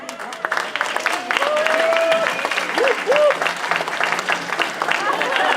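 An audience applauds to welcome a new English teacher from South Mountain at a school welcome-back address, steady clapping filling the room throughout, with voices and whoops mixed in.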